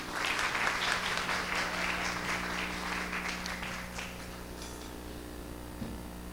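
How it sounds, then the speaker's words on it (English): An audience applauds Reb Zalman with dense clapping that is strongest at first and then thins and fades toward the end, over a low steady hum. "Can we get a round of applause for Reb Zalman?"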